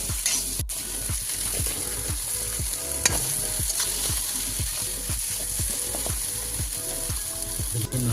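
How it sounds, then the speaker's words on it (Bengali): Fish for patties frying with spices in a pan over low heat, a spatula scraping and stirring in steady repeated strokes about every half second over a continuous close sizzle, with no talking. "আপনারা যত সময় মাছটা একটু ভাজা ভাজা হয়ে আসে একটু নাড়তে থাকুন হালকা আঁচ করে"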